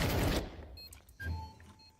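A flashbang grenade bursts in a video game, a loud low boom at the start that fades out, followed by a second quieter thump and faint ringing electronic tones.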